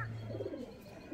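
Adult pigeons of the Chennai Kalodana breed coo softly inside a home loft, a low throaty murmur running steadily through the moment at modest volume with no talk over it.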